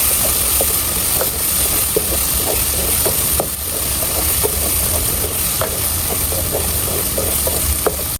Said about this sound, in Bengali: মশলার সাথে 1 মিনিট চিংড়ি মাছগুলোকে একটু ভেজে নিলেই হবে।